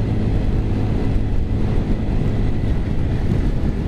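A 2022 Honda Grom's small single-cylinder engine drones at high revs while climbing uphill into a headwind, a steady low hum heavily buried under loud wind rush on the microphone.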